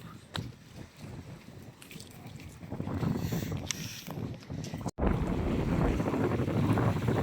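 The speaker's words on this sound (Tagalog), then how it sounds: "ang lakas ng hangin dito, no?" Strong wind buffeting close by at the seaside Baseco compound in Manila, building into a steady roar after a brief cut, with a faint wash of waves beneath.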